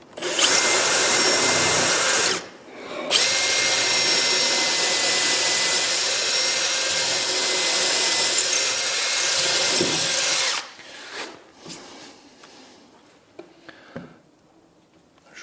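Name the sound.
drill boring straight into wood for a workbench vise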